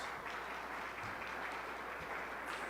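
A crowd at an economic development and jobs announcement in Buffalo claps for a New York State senator, a steady, fairly faint wash of applause filling the whole moment.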